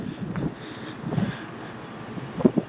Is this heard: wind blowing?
yes